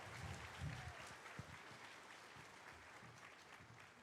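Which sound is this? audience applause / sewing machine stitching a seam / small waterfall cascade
audience applause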